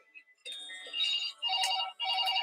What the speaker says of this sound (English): Now she's ringing.